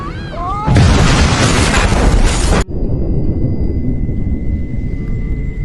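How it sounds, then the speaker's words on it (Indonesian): A car explodes in a scene from the Korean film Hard Hit: a sudden loud explosion roars for about two seconds before cutting off abruptly to a quieter rumbling background, with a brief whistling tone just before. "Istrinya Junho pun keluar dari mobil dan tiba-tiba mobil pun meledak."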